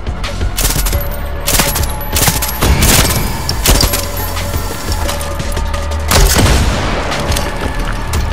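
Explosions and gunfire from the video game Far Cry 6, loud booming blasts and rapid bursts of shots that crack out repeatedly over a rumbling background, with heavy hits near the start and end.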